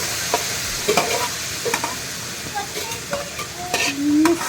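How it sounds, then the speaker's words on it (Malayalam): Cashew nuts and coconut fry in a pan for banana payasam, crackling and popping in scattered bursts over a steady sizzle while being stirred, close and fairly loud. "നമ്മളിത് കാഷ്യൂനട്ടും തേങ്ങയും കൂടെ വറുത്തത് ഇതേ പൊട്ടുവാണേ"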